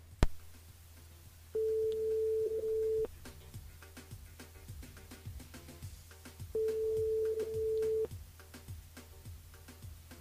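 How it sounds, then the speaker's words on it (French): A telephone ringback tone sounds as a radio host calls a listener live on air: two long, steady electronic tone bursts separated by a pause, clear and loud over a low background hum. "on rappelle Tony ce soir, les amis"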